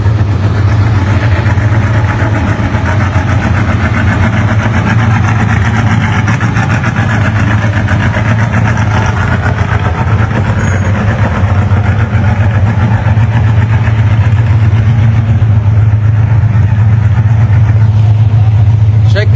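A Team Honda Baja 1000 race vehicle, number 9, sits with its engine running, a loud steady low throbbing idle throughout, with someone talking over it.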